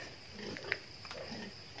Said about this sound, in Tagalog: update ko kayo sa mga biik